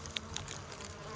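Honeybees buzz around a hive box, faint and close. The short, thin hum comes with a few brief, louder passes as individual bees fly near.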